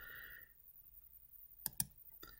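Computer mouse clicks while selecting a Canvas grading scheme: a few sharp, faint clicks, two close together then one more, after a short tone fades out.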